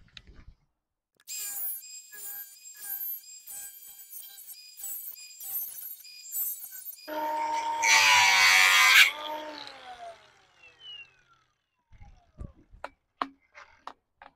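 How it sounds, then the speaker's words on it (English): Circular cutoff wheel slicing through a tube during a clutch fan install on a RZR Pro XP / Turbo R: a high whining spin-up in short bursts, then a harsh, loud grinding cut for a couple of seconds, followed by scattered clinks. "I'm going to use a circular cutoff wheel to cut this"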